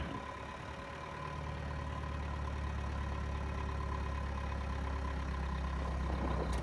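Mahindra Roxor off-road vehicle fitted with a BMF 5.5-inch lift kit, its engine running steadily in low range while climbing, a continuous low rumble that builds slightly and holds, fairly close, with no talking.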